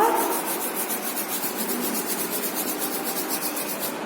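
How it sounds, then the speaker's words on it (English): Palms rub briskly together up close in a steady, continuous swishing friction for a few seconds, alone without talk. "Everyone, rub your hands"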